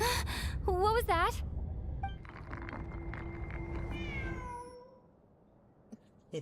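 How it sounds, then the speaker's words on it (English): Several short, bright cat meows in quick succession inside the Genshin Impact video game, loud and close, followed by quieter game ambience with a few later chirping, whistle-like calls and small clicks. "Kitty."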